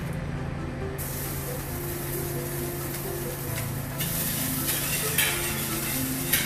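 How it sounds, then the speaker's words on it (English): Garlic sizzles in a medium hot pan, a steady dense frying hiss that holds for several seconds and grows a little louder partway through, with a low hum underneath. "we're gonna start off with a medium hot pan. Next, we'll throw in some garlic."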